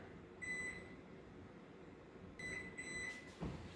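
A kitchen timer is set for a spinach pie baking in the oven, giving a short electronic beep, then a quick pair of beeps a couple of seconds later, close and clear over quiet room hum.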